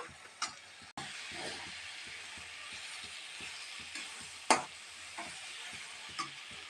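Grated cauliflower stirred in a pan of hot oil sizzles steadily, with a spatula scraping and clicking in soft repeated strokes and a few sharper knocks against the pan.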